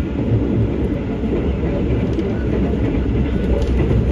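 KAI Taksaka passenger train running through Kebasen station, heard from inside the carriage: a loud, steady rumble of wheels and car noise with faint rhythmic clatter throughout.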